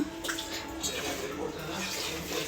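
Cold water is poured onto flour to knead dough for North Karnataka jowar roti, a steady close splashing pour with people talking softly in the background.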